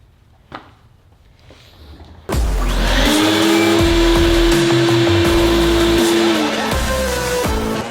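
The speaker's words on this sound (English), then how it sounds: "Vacuum as you go." After a few quiet knocks, a vacuum cleaner switches on and roars steadily nearby with a loud whine, its pitch shifting slightly as it moves.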